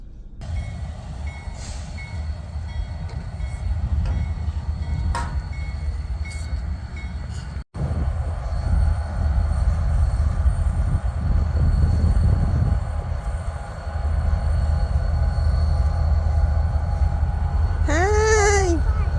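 A train passes a railway station beside a large playground, its loud, steady rumble filling the whole stretch, with brief high squeals near the end.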